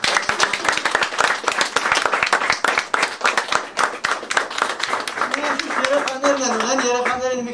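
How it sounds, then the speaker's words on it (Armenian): An audience at an Armenian church Saturday school applauds the children with lively, dense clapping that carries on for several seconds, while a voice starts speaking over the tail of it. "ծափահարեն երեխաներին"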